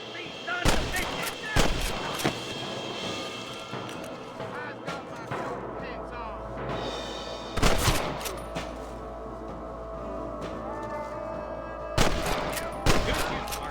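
Gunshots from the video game Red Dead Redemption crack out in loud, sharp bursts near 1, 2, 8 and 12 seconds, with a low rumble and game ambience between volleys.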